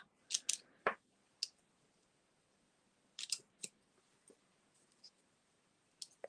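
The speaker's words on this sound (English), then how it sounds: "you can just get your scissors out and give them a little cut round" Scissors make short, crisp snips through card in small bursts with quiet gaps between, close and clear, no talking.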